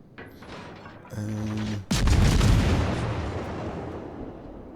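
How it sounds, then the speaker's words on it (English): Battleship main guns fire in the World of Warships naval combat game, a heavy booming salvo with a long rumbling tail that fades out, following a brief mechanical clatter. "There's another battleship that's shooting at me."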